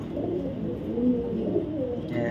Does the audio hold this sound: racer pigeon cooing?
yes